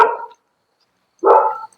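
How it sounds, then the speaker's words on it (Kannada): A dog gives two sharp barks, close and loud, separated by about a second of silence. "ನೋಡಿ ನಾಯಿ ಯಾರನ್ನು ಬಿಡಲ್ಲ"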